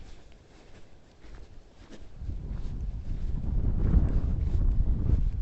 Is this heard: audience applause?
no